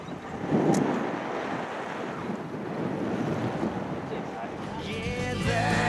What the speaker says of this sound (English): it's very, very windy at the moment